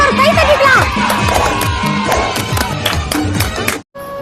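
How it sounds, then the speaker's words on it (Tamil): A lively crowd cheers and shouts, with some scattered clapping, in a loud, dense burst that runs for about four seconds before cutting off abruptly. "அவருக்காக எல்லாரும் ஒரு கை தட்டிக்கலாம்."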